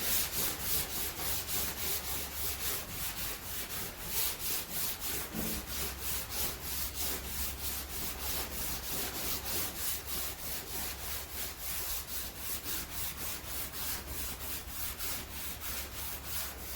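Steady, close back-and-forth rasping of 220-grit sandpaper on a soft flat block over primer on a 1999-2007 Ford F-250 wheel arch repair panel, strokes repeating in an even rhythm with no talk.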